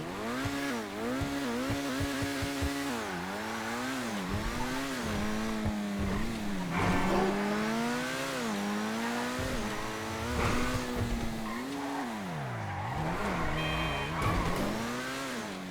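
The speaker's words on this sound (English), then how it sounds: "nothing really too special about the Progen Italia GTB's sound" A Progen Italia GTB supercar engine in a video game, loud and continuous, revving up and down through gear changes with rising and falling pitch, with occasional tire squeal.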